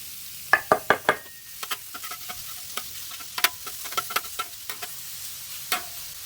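Thinly sliced, seasoned venison top round hits a hot flat-top griddle, giving light sizzling with a string of sharp taps and clicks of meat and utensils against the metal.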